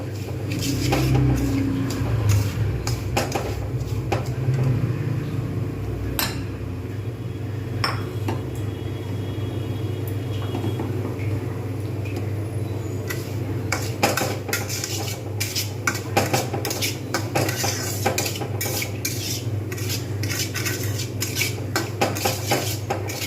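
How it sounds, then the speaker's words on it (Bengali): Semolina is dry-fried in a pan and stirred for a traditional Bengali sooji payesh, heard as persistent metal spoon scraping and clinking against the pan over a low steady hum, with busier bursts toward the end. "আমি সুজিটা ভেজে নেবো অতিরিক্ত ভাজবো না"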